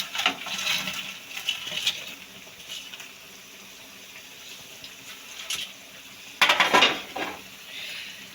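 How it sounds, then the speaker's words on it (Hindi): Fried pakoras going into a pot of Punjabi kadhi: scattered clinks and scrapes of a utensil against the pot with soft wet stirring, and a louder burst of clattering near the end. "अब हम ये कढ़ी में डालेंगे।"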